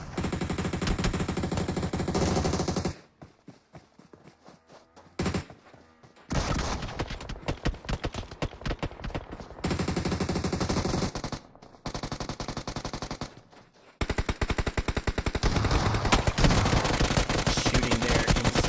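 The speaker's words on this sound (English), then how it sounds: "The smoke, blindly shooting, trying to get some shots." Bursts of automatic gunfire from a PUBG Mobile match, loud rapid volleys broken by short silent gaps, including blind shooting through smoke, with several separate strings of shots across the stretch.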